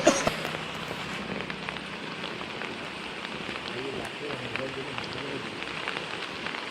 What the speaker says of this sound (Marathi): पाऊस येतोय आणि वाट लागते सारखी.